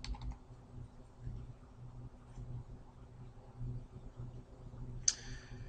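A command being typed on a computer keyboard: a short run of soft key clicks at the start, quiet low hum in between, then a sharper single keystroke near the end.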